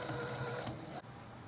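A sewing machine top stitches a small zippered pouch in a brief, steady mechanical whir that stays close and even.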